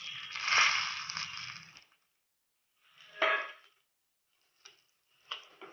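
Semolina (rava) poured into a pan with already-roasted raisins and cashews, a long dry rustling pour followed by shorter scraping and stirring bursts, close and fairly loud with gaps between.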